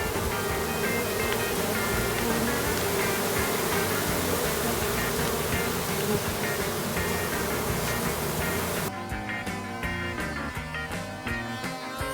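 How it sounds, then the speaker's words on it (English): Honeybees inside a building's wall cavity being driven out with smoke, giving a dense, steady buzzing drone with a constant roar that stays loud throughout and shifts abruptly near the end. "We're going to use smoke to start pushing the bees up and out of the cavity."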